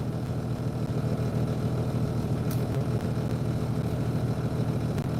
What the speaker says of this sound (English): can you guys hear the truck running?